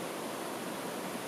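Waterfalls cascade through the stream valley of Sogeumgang on Odaesan, a steady, dense rush of falling water filling the whole clip at moderate loudness with no voices.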